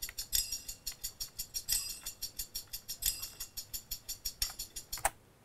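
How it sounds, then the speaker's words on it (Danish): A steady tambourine loop in a music production plays alone, with quick, even jingle hits in a regular pulse and brighter accents every few beats. It sits at low level. "Så tilføjede jeg sådan et tamburin loop"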